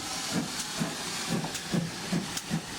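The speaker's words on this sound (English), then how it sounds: "Oliver steamed away" Rhythmic steam chuffs from a locomotive pulling away, steady puffs repeating about every half second with a hissy wash over them.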